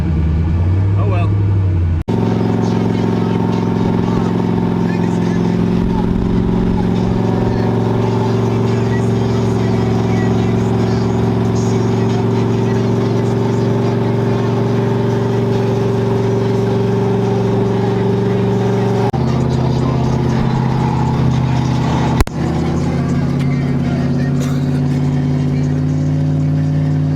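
Cars out on a road cruise, Kotor day one: a steady engine drone and road rumble from inside a moving car, loud and continuous, with a brief shift in engine note partway through and people talking over it.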